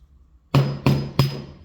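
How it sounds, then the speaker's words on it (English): A mallet strikes a punch on the metal slide of a Gen 3 Glock 33 being restored: three sharp, close taps about a third of a second apart, each with a brief metallic ring. "using the mallet and a punch to get this out"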